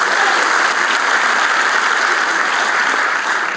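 A crowd at a speech event gives loud, sustained applause, a continuous dense roar of clapping with steady volume and no individual claps standing out.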